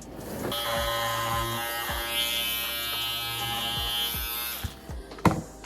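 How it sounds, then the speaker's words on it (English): An electric shaver shaves down the pile of a custom tufted rug, a steady loud buzzing drone that dips in pitch several times as the blades press into the fibers, then cuts off near the end. "you basically want to shave down the rug and make sure it's outlined very pretty"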